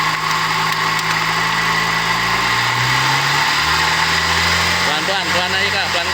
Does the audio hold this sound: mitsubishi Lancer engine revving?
yes